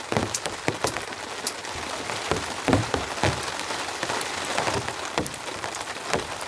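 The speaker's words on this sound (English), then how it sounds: "And the rain's come back." Steady rain patters on surfaces near a winter campsite, with scattered louder drips and drops standing out from the continuous wash.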